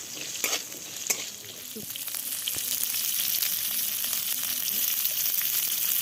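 Bitter gourd pieces with a little salt fry in a pan with a steady, close sizzle that grows louder after a few sharp stirring knocks near the start.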